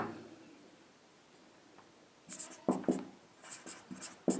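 Chalk or marker strokes on a classroom board while working a Class 10 maths problem about a cylinder with hemispheres cut from its ends: a quiet pause, then several short, sharp scratchy taps in an uneven rhythm, close and fairly clear.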